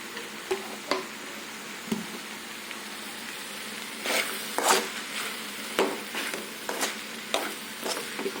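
Okra curry is stirred in a pan after chili powder and roasted coriander powder go in, with soft steady sizzling under repeated scraping and clinking strokes of the spoon, close and continuous with no talk.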